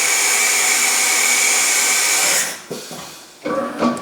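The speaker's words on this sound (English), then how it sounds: "I'm going to change to tool number 1, which is my 3/8 inch end mill" Automatic tool changer on a CNC mill swapping in a 3/8 inch end mill: a loud, steady rushing hiss for over two seconds, then it cuts off into a few close mechanical clunks and short whirs.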